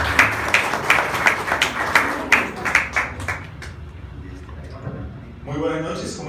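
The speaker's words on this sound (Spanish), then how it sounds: "Denle un aplauso ahorita" An audience claps for several seconds, a dense close round of applause that thins out and fades, followed by a voice starting to speak.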